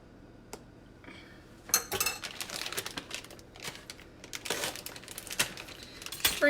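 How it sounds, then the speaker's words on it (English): Pecans scattered over a no-bake banana split dessert, a rapid irregular patter of small pieces ticking and clicking onto the surface and dish, close and fairly soft, with no talk. "Sprinkle with pecans."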